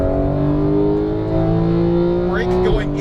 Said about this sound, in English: I'm hitting the accelerator too quick, aren't I?